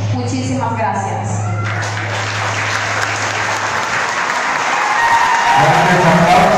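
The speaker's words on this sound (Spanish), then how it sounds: "aplausos para Jenny Elizabeth Díaz Mayer" A crowd applauds a contestant at a 2022 queen election pageant in Camasca. The clapping is loud and steady throughout, with a voice and tonal sound over the opening seconds before the applause swells toward the end.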